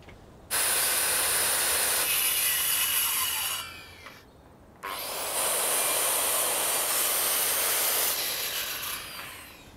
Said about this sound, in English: So I'm now ready to cut my post off.